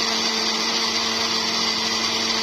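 A kitchen blender runs steadily, mixing bananas, egg, oat flour, milk and raw unsweetened cocoa into batter. The motor whine is loud, constant and close, with no talk over it.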